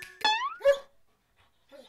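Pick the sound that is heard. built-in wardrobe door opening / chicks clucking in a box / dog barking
dog barking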